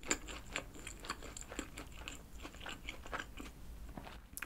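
Someone bites into and chews a slice of meat pizza packed with meat under the cheese, giving quiet, close, rhythmic crunches and soft chewing sounds in a near-silent room.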